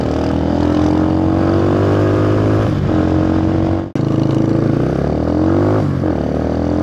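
Motorcycle engine revving hard and loud at close range, pitch rising steadily through the gears, with a brief sharp dip near the middle at a shift before the drone climbs again.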